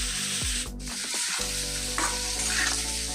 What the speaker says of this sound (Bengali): এখানে ফুলকপি গাজর আলুটাকে ভালো করে ভাজছি